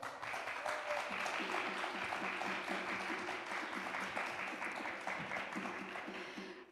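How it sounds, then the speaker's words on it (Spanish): An audience at an Andean Colombian music festival applauds a performer at night, a steady, full wash of clapping that holds for several seconds with a faint tonal hum beneath, then fades out at the end. "Un aplauso para él."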